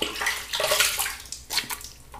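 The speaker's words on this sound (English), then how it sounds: "All right, let's rinse off." Running water splashing as shaving cream is rinsed off, close and fairly loud, in uneven gushes and bursts with short pauses between.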